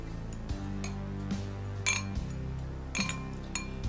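A spoon clinks against a glass bowl while a homemade skin serum is stirred, giving a few bright, close taps over a steady low hum of background music.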